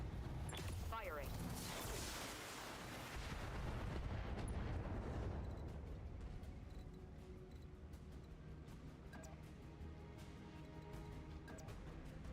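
Heavy weapons fire from battle mechs in the BattleTech video game: a dense barrage of booming, crackling blasts in the first five seconds, fading into a lower rumbling din with scattered smaller impacts.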